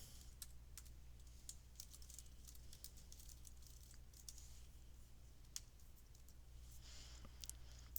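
Fast typing on a computer keyboard in a quiet room over a steady low hum, with quick light clicks in irregular bursts and no talking.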